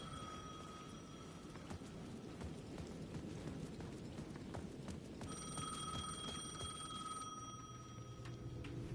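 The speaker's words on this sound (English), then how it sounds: "The payphone at the edge of the plaza was ringing again." A payphone rings at the edge of a plaza in the video game Alan Wake 2, faint repeated electronic trills that come in two bursts over a low, steady rumbling ambience.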